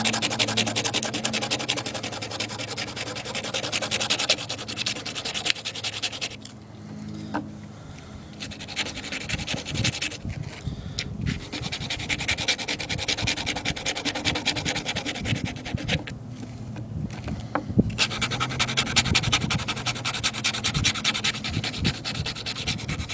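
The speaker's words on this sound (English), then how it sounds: "So let me go ahead and start sanding on this." A training knife is sanded with coarse 60 grit sandpaper, making steady, close, rasping strokes that continue almost unbroken, with a few brief pauses.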